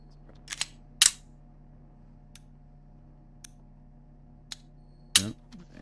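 Beretta pistol shots in the video game Receiver 2, a few sharp isolated cracks spaced unevenly among small mechanical clicks, with a low steady hum beneath and no talking.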